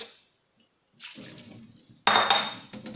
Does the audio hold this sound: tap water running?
yes